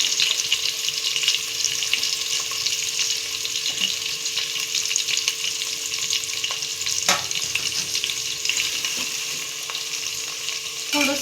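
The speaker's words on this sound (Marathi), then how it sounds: "आपण आता कांदा गोल्डन ब्राऊन होईपर्यंत तळून घेऊया तेलात" Chopped onion frying in hot oil in a pan, a dense, continuous sizzle and crackle that stays loud and steady throughout, with occasional faint clinks and no voices.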